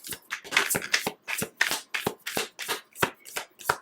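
Tarot cards are riffled and shuffled in quick, regular bursts of papery flutter, about a dozen rhythmic strokes close to the listener, loud and crisp with no talking.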